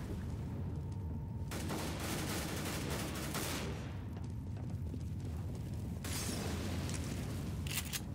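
Dense, continuous gunfire from a Counter-Strike: Global Offensive match, shotgun blasts mixed into a steady loud roar of shots and booms with no talking.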